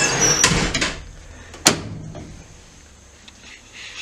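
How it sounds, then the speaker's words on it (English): A 1991 Minibird school minibus passenger door worked by a hand lever, giving a rattling mechanical slide and then a sharp clunk as it shuts, both close and loud, with quieter cabin rattles fading afterward. "we have the lever that opens and closes the door"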